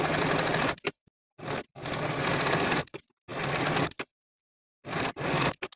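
A sewing machine finishing the raw edges of a dress bodice runs in four loud, close bursts of rapid stitching, separated by brief silent pauses, with no voices.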